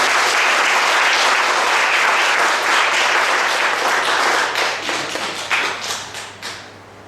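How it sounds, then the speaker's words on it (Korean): A church congregation at a Sunday service applauds an engaged couple with loud, full applause that holds for several seconds, then thins into a few scattered claps and fades out. "자, 박수로 축하합니다."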